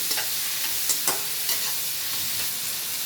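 Tamarind chutney mixture is stirred in a pan over a steady frying sizzle, with a few sharp scrapes of a spoon against the pan near the start and after one second. No one speaks.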